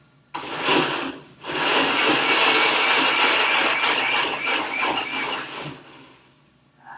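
A blender pulping paper whirs loudly, starting abruptly, briefly pausing, then running steadily for several seconds before winding down to quiet.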